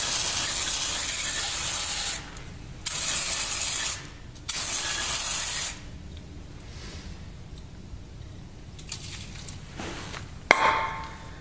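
Brake cleaner sprays onto a Mustang 5.4 cylinder head in loud, close hissing bursts of about two seconds each, separated by brief pauses, followed by quieter dripping, clinking and a short final spritz.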